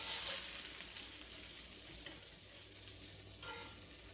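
Slider patties fry in a pan with a soft, steady sizzle and bright spatters at the start, close but fairly quiet, with a few small stirring scrapes.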